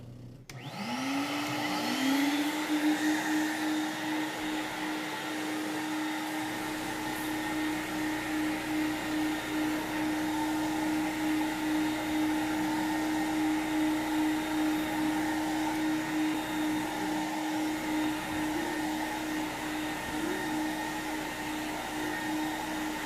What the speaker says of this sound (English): I'm going to clean one section first with the regular wand